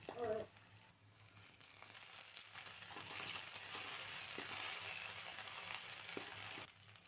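Tomatoes go into hot oil with browned garlic and onion in a kadhai, setting off a steady, soft sizzle and crackle that persists close by, with a brief stirring clatter at the start.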